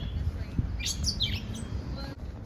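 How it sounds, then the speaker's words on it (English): Small bird chirping outdoors on a walk through Mount Airy, North Carolina, with rain starting: a few thin high tweets over steady street and wind noise, moderately close. "Hello, bird. How are you, bird?"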